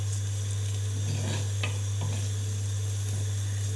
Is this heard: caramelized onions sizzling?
yes